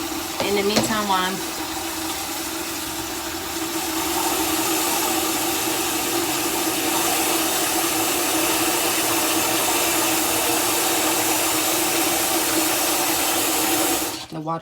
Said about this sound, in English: the water was too loud, I had to make a pause.